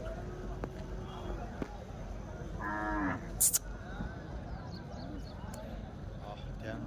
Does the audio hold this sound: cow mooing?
yes